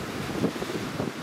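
Storm Otto's 60 mph gusts buffet the microphone at Newcastle International Airport, a continuous close, rumbling wind roar with slight surges and no voices.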